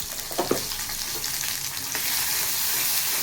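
Spices with ginger paste sizzling in a hot pan, a steady frying hiss broken by a few scraping stirs early on, then settling into an even, close sizzle with no talking.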